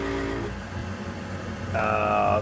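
A worn blower motor on a Weil-McLain HE boiler hums and vibrates steadily with a low rumble, rising into a louder, harsher drone with a tonal whine near the end.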